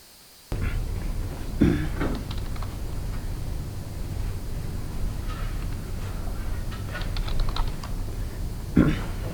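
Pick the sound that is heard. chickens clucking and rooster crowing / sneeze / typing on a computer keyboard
typing on a computer keyboard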